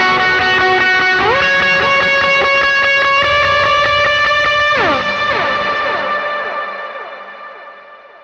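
Electric guitar lead lines through a boost pedal and reverb, a few sliding sustained notes ringing out close and loud, then a long reverb tail fading away alone.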